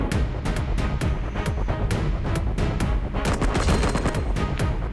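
Rapid bursts of sniper and automatic gunfire from the mobile shooting game CoverFire, loud and dense, with sharp shots crowding together throughout and clustering toward the end.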